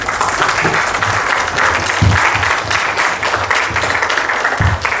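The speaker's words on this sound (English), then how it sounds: "Then where is big round of applause?" A big round of applause from students at an engineering college entrepreneurship bootcamp: dense, sustained clapping that fills the room at an even, fairly loud level for the whole stretch.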